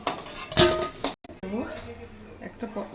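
Fried boras are lifted out of a pan with a metal utensil, giving a few sharp clinks and scrapes against the pan amid sizzling, while a person talks.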